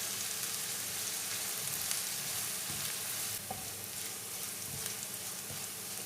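Dried prawns fried and stirred with masala in a pan for a Kerala-style dry prawn roast: a steady, dense sizzle with scraping stir noises running continuously, close and alone without talk.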